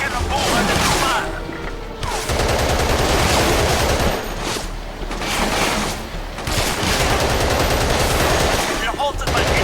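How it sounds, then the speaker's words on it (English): Heavy enemy gunfire in Battlefield 2: Modern Combat, sustained automatic bursts and crashes forming a dense, loud barrage, with radio-style voices talking over it. "We are halted by enemy fire."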